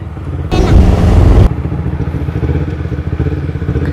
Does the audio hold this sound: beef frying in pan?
no